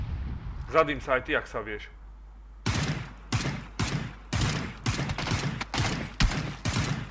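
Grenade blasts and bursts of gunfire from a war video game, a rapid run of loud, booming shots and explosions following a stretch of a voice talking over quieter game ambience.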